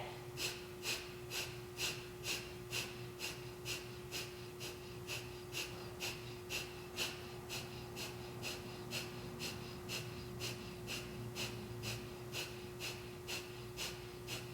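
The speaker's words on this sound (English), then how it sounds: "Keep focusing on forcing the air out the nose." Breath of fire yoga breathing, with rapid forced exhales through the nose in a steady, evenly spaced rhythm of sharp puffs that continues throughout, close but soft, with no talking.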